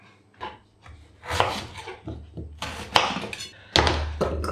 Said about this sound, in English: Cut them into chunks about the same size, about like that.